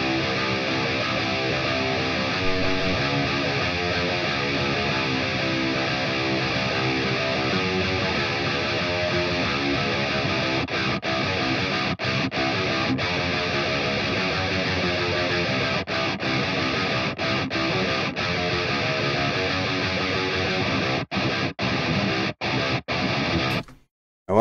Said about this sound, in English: So the whole tone, all four guitars together, as you know, I dual track.